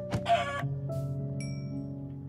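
A few short clucks and squawks from Minecraft chickens over a steady droning background, game-like and fairly quiet.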